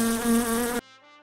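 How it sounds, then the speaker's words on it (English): A housefly buzzes loud and close in a steady, continuous drone that cuts off abruptly partway through, leaving a fainter tail behind. "A fly."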